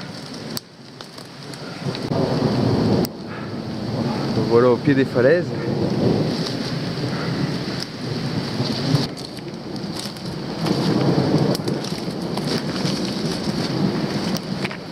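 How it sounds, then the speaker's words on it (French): Rain falls steadily in a thunderstorm at the foot of cliffs near an old excavation site, with low rumbles and gusty noise throughout, while someone talks briefly over it. "Bien sûr, je suis pris dans un orage en même temps."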